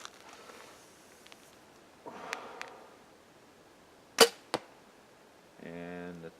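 An arrow loosed from an SAS Scorpii compound bow at a target 20 yards off gives a sharp, loud snap followed quickly by a second crack as it strikes, with faint handling noises before and a brief hum after.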